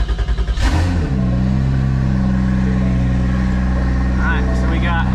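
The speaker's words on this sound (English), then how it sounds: "So I guess there's nothing else to do but hop in the car and see if it starts." A 2JZ engine fitted in a 2015 Ford Mustang cranks, catches and settles into a loud, steady idle with a few throttle blips near the end, close up and alone.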